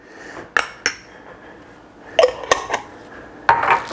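A utensil stirs a bowl of creamy horseradish and Worcestershire sauce, giving a handful of sharp clinks and scrapes against the bowl in irregular bursts, close and fairly loud, with quiet gaps between.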